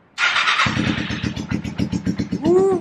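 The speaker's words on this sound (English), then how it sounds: "Oh yeah, the bike starts." A motorcycle, recently repaired, started with the key and a press of the button: a whirring starter crank followed by the engine catching into a steady, fast-pulsing idle close by, ending in a brief rising rev.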